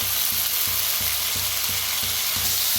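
Radish pods that were roasted earlier sizzle in a hot pan, a loud continuous frying hiss with a soft repeated stirring scrape beneath it.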